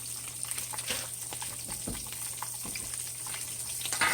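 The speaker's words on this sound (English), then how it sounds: "So I'm over here in the sink just draining that water off." Water splashes and gushes into a kitchen sink as it is drained off shrimp, with a steady spattering hiss, faint and continuous, with a few small knocks and clatters.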